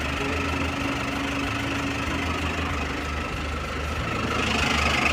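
A Hino WO4D diesel engine in an FB117 six-wheel truck idles with a steady, low, knocking rumble and even vibration, heard close and continuous, with no one speaking.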